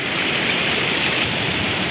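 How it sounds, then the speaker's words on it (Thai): Mae Klang waterfall at Doi Inthanon pouring steadily, a dense, continuous roar of rushing water close by with no voices. "มีข้างทางก็มีน้ำตกไหลเนี่ย"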